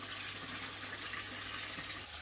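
Water churns and trickles in a garden pond, a soft, faint, continuous splashing wash with no voices.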